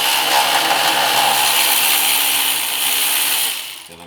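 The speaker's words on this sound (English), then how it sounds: "And now I can get a 10 millimeter set up on here on my ratchet if I switch swivel sockets." A ratchet driving a 10 mm swivel socket on an engine bracket bolt during Nissan Altima engine removal, giving a steady, loud, dense whirring-clicking rasp close by that fades near the end.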